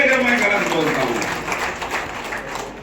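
An audience at a farewell function for a district education officer applauds, a dense, steady wash of clapping that runs the whole stretch, with a voice talking over the opening second.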